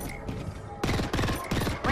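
Gunfire in the video game Apex Legends, loud rapid bursts of automatic shots that start and stop in quick succession, close and dense.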